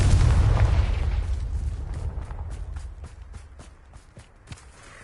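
A blasting Confringo spell explodes in a video game, a heavy boom that rolls off and fades into a string of quick, light tapping steps.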